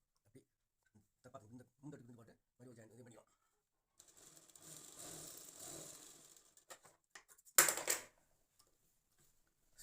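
A sewing machine stitches a blouse lining, running in a few short bursts and one longer steady run, with a sharp clatter near the end; someone talks between the runs.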